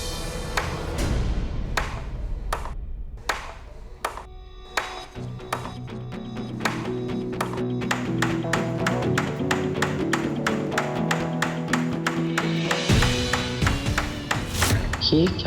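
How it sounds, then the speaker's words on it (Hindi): Sharp, repeated knocks and taps come in quick irregular runs, close and crisp, over a sustained tonal music bed, with a person speaking partway through. "कौन है जो इतनी खटखट खटखट कर रहा है?"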